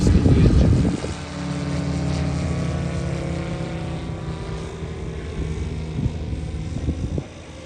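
Steady drone of a model TBF Avenger airplane powered by a Moki 300 five-cylinder radial engine, droning at moderate distance at an airshow, holding a fairly even pitch after a brief louder burst at the start.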